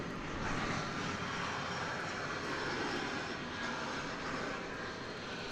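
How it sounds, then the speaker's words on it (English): An Embraer E-Jet airliner at Dallas/Fort Worth airport gives a steady, loud jet engine roar that holds evenly from start to finish, with no talk over it. "Another E-Jet."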